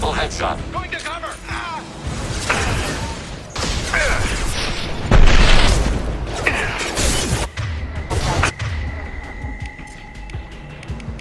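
Mass Effect 2 combat: heavy gunshots and explosions boom in a busy, loud mix, with game voices talking over the action and a mechanical hum underneath.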